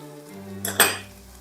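Noodles stir-fried in a pan, two quick bright metal clanks of a spatula against the pan over a low steady hum, close with no voice.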